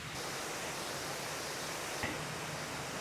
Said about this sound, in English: And this is a waterfall, which I don't know the name of because it's all in Thai.